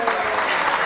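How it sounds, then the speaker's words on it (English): Audience at a club gig applauds Puerto Rican cuatro player Yomo Toro: a dense, loud wash of clapping filling the whole brief moment, with a slight swell near the end. "I want you to give him a real round of applause"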